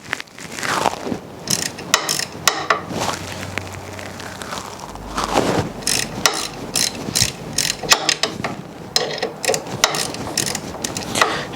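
A socket ratchet clicks in repeated bursts while cracking loose a bolt on an Ariens snow blower, the sharp, close pawl clatter starting and stopping throughout, with no talking.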